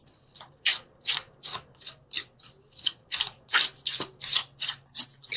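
Angel cards being shuffled for a tarot reading, a run of about fifteen quick, crisp riffling bursts in a steady rhythm, close and clear with no talking.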